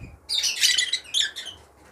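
Lovebirds that have bred once, caged for sale at a bird market, give loud, close, shrill squawks and chirps in a couple of quick bursts with no talk.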